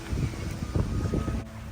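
Strong, gusty wind roars steadily into the microphone ahead of an approaching typhoon, a dense low rumble with no one speaking.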